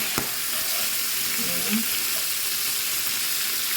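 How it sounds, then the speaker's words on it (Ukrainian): Liver frying in a pan, a steady broad sizzle that holds evenly, with a sharp utensil tap early on and a faint brief voice midway. "Підсмажила вже цю печінку, з'єдную її"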